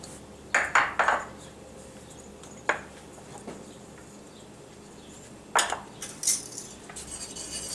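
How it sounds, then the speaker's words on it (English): Metal utensil clinks against a bowl while dried parsley, garlic powder and black pepper are mixed, a few sharp clatters in short bursts with quiet gaps between. "we're going to add all of these in this bowl and just mix everything up"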